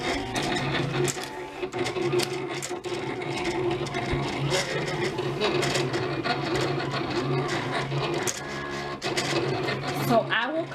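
A vinyl cutter sets its blade before T-shirt printing, giving off steady close whirring and clicking as its mechanism shuttles and ratchets, with a faint hum running underneath.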